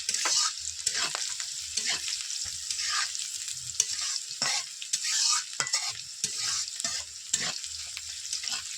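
Spices for a Bengali egg curry fry in a pan, a bright sizzle broken into frequent rhythmic scrapes and taps from brisk stirring throughout.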